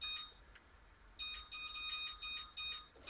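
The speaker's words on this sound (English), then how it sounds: "So I'm gonna reset my timer for 5 minutes," A kitchen oven timer beeps in short repeated bursts of high, steady tones, moderately loud over a faint room hum.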